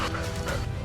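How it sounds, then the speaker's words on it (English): Hunting dogs bark at the edge of a wheat field at dusk, a loud, continuous burst of close barking with yips and whimpers, no pauses across the short stretch. "loud barking erupted at the edge of the field"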